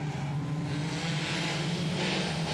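Production sedan race cars roar around a dirt speedway at Maryborough during a final, engines droning steadily at moderate distance with a sustained, even loudness and no voices.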